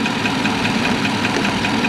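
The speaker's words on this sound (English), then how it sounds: "This engine's a little loud." Car engine idling loudly, a steady close rumble with regular pulsing throughout and no speech.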